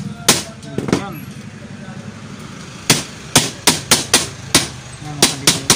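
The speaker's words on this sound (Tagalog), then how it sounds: "pukpukin nyo ng kahit 2x2 o martilyo, pwede na yan" Sharp hammer blows strike a chiller evaporator's metal plate, a couple early, then a quick run of evenly spaced hits, ringing close and loud over a low background hum.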